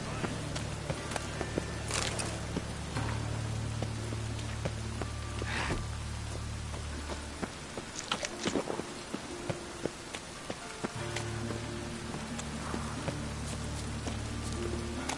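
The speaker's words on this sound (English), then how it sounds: "Rain, I like rain." Video game rain in The Witcher 3: steady rain patters on surfaces throughout, with occasional heavier drips, faint footsteps and low background hum.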